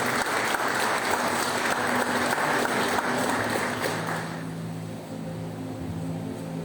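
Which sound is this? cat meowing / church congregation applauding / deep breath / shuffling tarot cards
church congregation applauding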